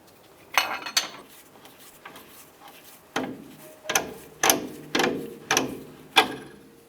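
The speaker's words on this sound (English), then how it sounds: "Using a 21mm socket, we want to go ahead and remove the strut, bolt, and nut right here." A ratchet with a 21mm socket removes a front strut bolt on a 2004-2012 Chevy Colorado, giving bursts of sharp, rhythmic metallic clicks, about eight short runs heard up close with no talking.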